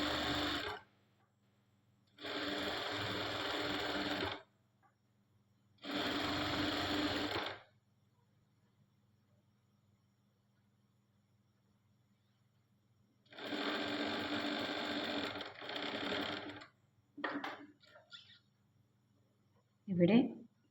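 A sewing machine stitches along a marked line in bursts, starting and stopping several times with short pauses between runs, loud and close, with brief handling noises toward the end.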